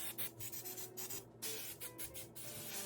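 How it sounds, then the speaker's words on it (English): Hairspray from an aerosol can hisses over styled hair in several short close bursts separated by brief pauses, with soft rubbing between them. "I'm just going to take some hairspray all over my hair"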